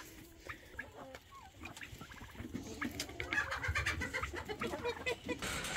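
Backyard chickens cluck and peck while being fed bolted garden spinach, a busy scatter of soft clucks, scratching and pecking taps close by, growing livelier toward the end.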